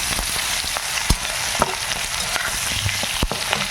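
Grass pea lentil fritters, soaked overnight and ground into batter, frying in hot oil in a village kitchen: a continuous close sizzle broken by a few sharp clinks and stirring knocks.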